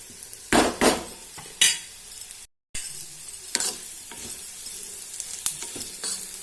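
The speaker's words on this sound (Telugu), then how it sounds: "ఇంకొంచెం సేపు అయితే ఫ్రై చేసుకుందాము" Bitter gourd fries in a pan, sizzling steadily while a utensil stirs and scrapes it with several sharp clinks and bursts, up close, with one short silent gap.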